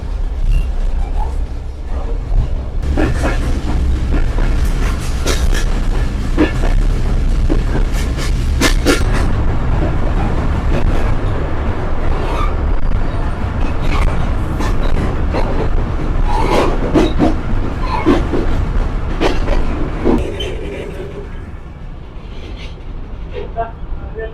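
A passenger train carriage rolls along on a journey toward Jhenaidah in Bangladesh, giving a loud, steady rumble with rattling and clattering throughout that eases slightly near the end. Voices may be faintly mixed in.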